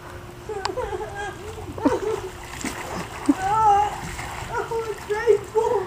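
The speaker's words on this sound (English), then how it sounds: "Sonia, go in the water, not get me wet." A dog doing tricks splashes into water, with several uneven splashes scattered through the moment while people talk and call out over them.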